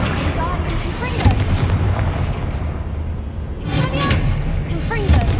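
Confringo blasting spell in Hogwarts Legacy: a couple of loud fiery bursts with crackling impacts, one near the start and another later, amid combat din and a voice speaking.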